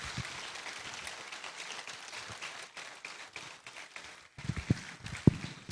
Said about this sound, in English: You have to keep clapping until His Excellency gets in.